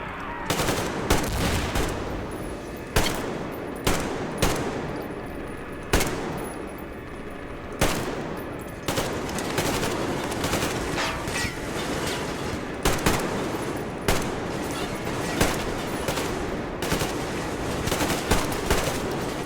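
Enemy guns with big magazines fire at close range in Metro Exodus: loud, sustained automatic bursts and single shots crackle repeatedly throughout, dense and relentless with barely any pause between volleys.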